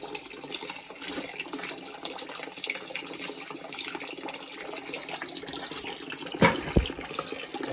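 Water is poured into the lower valve connection of a Burnham residential steam heating boiler during maintenance, giving a continuous splashing, trickling flow with a couple of louder gurgles near the end, close and with no talking.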